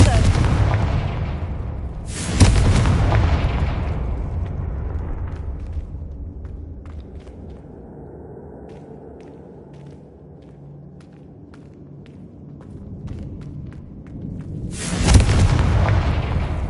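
In a Harry Potter video game, the Confringo explosive spell bursts with a loud booming blast, a long rumbling decay and scattered debris ticks, then a second heavy blast hits near the end.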